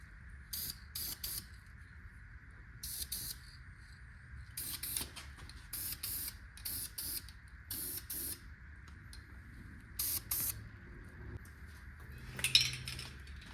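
Aerosol spray paint applied to modified 351 2V cylinder heads for a 1978 Ford F100 in a dark workspace, short hissing bursts repeated in quick pairs and runs, close, with light metallic clinks and no talk.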